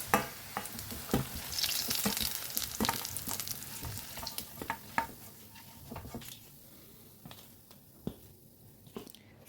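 Potatoes sizzle and crackle steadily in hot oil in a pan, with occasional clinks and scrapes of a utensil in the pan.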